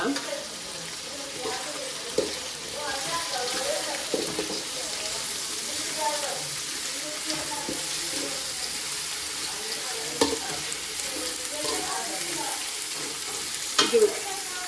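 Tomatoes added to a hot oiled pan sizzle and fry while a spoon stirs and scrapes, a steady close sizzle with intermittent clinks and scraping strokes.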